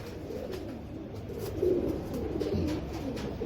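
Sadhna breed pigeons coo in a soft, continuous murmur of low throaty calls, close by, with steady background hiss and no talking.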